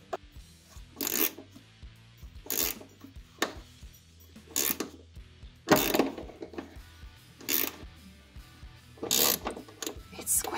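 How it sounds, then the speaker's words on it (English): Bolt and nut being tightened by hand to compress a stainless rivnut into a custom battery tray for a Datsun 260Z, giving repeated short ratcheting clicks in bursts about a second apart, close and fairly quiet with no talking. "So, now we're using the old school way. Use the bolt and nut to compress it."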